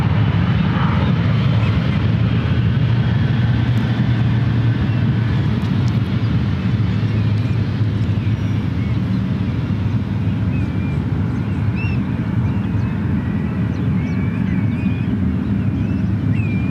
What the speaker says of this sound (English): one right takeoff for this 777 heading to Newark